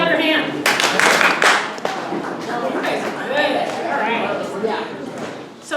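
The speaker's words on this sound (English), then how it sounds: "If you can hear me, clap your hand." An audience at a historical society's annual member meeting claps hands in a short burst of applause that fades into murmuring chatter and talk among the crowd.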